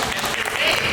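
A panel audience at an entrepreneurial accelerator event claps in a brief, dense burst of applause.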